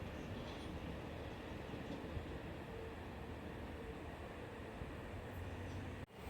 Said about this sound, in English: We have a Central via Gordon service passing platform number 1